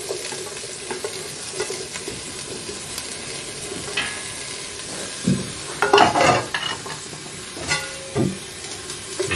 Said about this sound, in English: I'm just going to give them a quick fry.